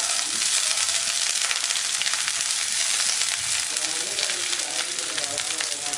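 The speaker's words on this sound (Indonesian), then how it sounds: "Sekarang kita mau tumis terlebih dahulu bawang bombaynya, biarkan nanti sampai wangi." Onions sautéing in a pan give a loud, continuous crackling sizzle throughout, close and steady with no voice heard.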